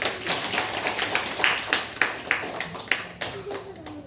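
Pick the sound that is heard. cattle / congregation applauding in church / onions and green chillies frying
congregation applauding in church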